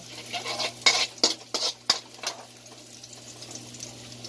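Onions frying and being stirred in a pan for a Filipino sweet and sour tilapia dish, with a scatter of clinking utensil scrapes over a low, steady sizzle, then settling into a quieter frying hiss.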